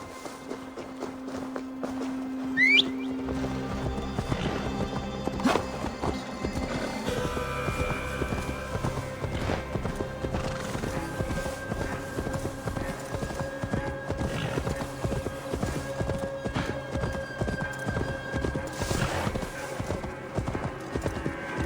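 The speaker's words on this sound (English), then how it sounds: "Now to deliver Magni his horse" Steady clip-clop of horse hooves walking throughout in the video game Assassin's Creed Valhalla, with a brief whinny early on, set against a continuous musical and ambient backdrop.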